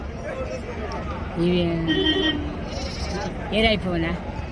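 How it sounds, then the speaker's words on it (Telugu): Goats at a crowded livestock market in Angallu, bleating loudly and close by in several wavering calls, with a cluster near the end, over a background of people talking. "మేకలు ఇవన్నీ"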